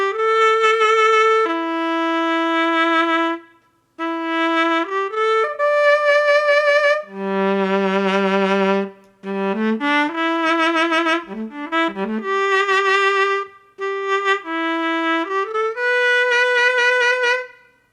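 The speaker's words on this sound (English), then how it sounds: "Now I wanted to show the saxophones, which sound like this." A saxophone virtual instrument from Audio Modeling's SWAM line plays an expressive solo melody. The phrases are sustained and legato with slides and vibrato, and some brief pauses fall between lines, with no speech.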